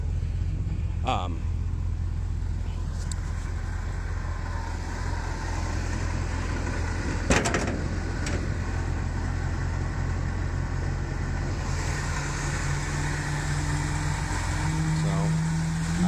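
A 1964 Ford Galaxie 500 with a 390 V8 and four-speed idles in a steady, low, even rumble close by, with a few brief clicks and knocks over the continuous engine note.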